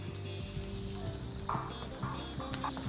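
Tomatoes and capsicum frying in a pan, an even, moderately quiet sizzle with a few soft stirring scrapes over three seconds.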